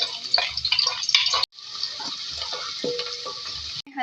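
Whole spices crackling and frying in hot oil for an egg gravy, a dense steady sizzle with stirring clatter, broken by a brief pause before the hiss resumes.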